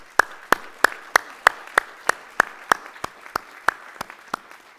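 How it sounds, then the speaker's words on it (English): Steady, evenly spaced claps, about fourteen sharp strikes at a slow regular beat, from the audience at a naturalization ceremony at Harvard Kennedy School, fairly close and with no talking over them. "join me in recognizing the people who helped get you here today with a round of applause for their support"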